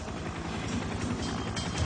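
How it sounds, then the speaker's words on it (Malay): A helicopter flies nearby, its rotor thumping in a fast steady pulse beneath a broad engine roar for about two seconds, with no speech. "Ai, helikopter tu."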